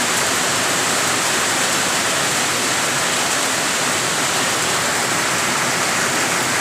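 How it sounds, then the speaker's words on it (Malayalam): Heavy rain pours steadily at night in Kerala, a dense, continuous broadband roar with no pauses, close and loud, with no voices. "നല്ല മഴ പെയ്തുകൊണ്ടിരിക്കുകയാണ്"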